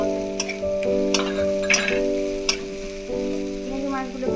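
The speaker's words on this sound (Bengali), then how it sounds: "এবার আমি চিংড়ি মাছগুলো ভেজে রেখেছিলাম ওইগুলো দিয়ে দিলাম এর মধ্যে।" Fried prawns go into a sizzling drumstick and pumpkin curry in the pan, with a constant crackle of oil, a few sharp spatula clicks and a faint tonal hum underneath, no talking.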